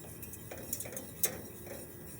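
A whisk clinks faintly against a pan as butter is worked into a beurre blanc over a low flame, giving quiet scattered metallic ticks and scrapes with one sharper tap, close but soft.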